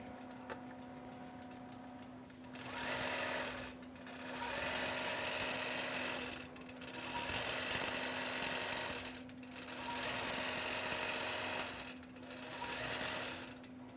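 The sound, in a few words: quilting machine stitching a quilt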